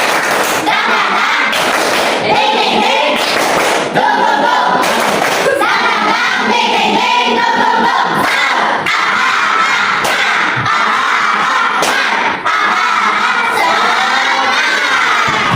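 Classroom of schoolchildren standing to do a rhythmic clapping chant together, loud bursts of claps mixed with children shouting and cheering in unison, close and energetic throughout.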